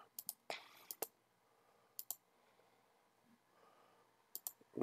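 A few sharp, isolated clicks on a computer keyboard come in pairs and short groups, separated by near silence, in a quiet room.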